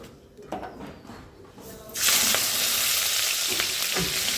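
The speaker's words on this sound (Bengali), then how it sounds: "পেঁয়াজ আর লঙ্কা বেগুন দিয়ে দিলাম।" Onion, chilli and eggplant hit hot oil in a wok, setting off a loud, steady sizzle that bursts in at once after a quieter start and holds at full strength to the end.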